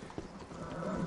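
Rhythmic clip-clop of horse hooves in Red Dead Redemption 2, fairly quiet and steady, with no talking over it.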